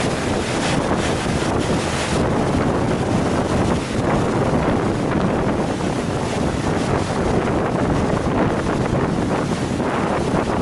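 Strong wind roars steadily across the microphone aboard a Chao Phraya express boat, a constant loud rush with a watery, open-air feel underneath, no voices.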